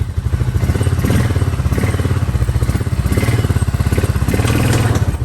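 A cheap used four-wheeler ATV engine runs in gear with four-wheel drive engaged, giving a loud, close, steady rumbling putter with slight throttle swells and no speech.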